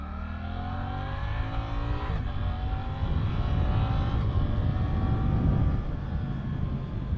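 A Suzuki GSX-8S motorcycle with a quickshifter accelerates hard through its gears, its engine note climbing steadily and dropping briefly at two quick upshifts. The sound is loud and close, with no talking.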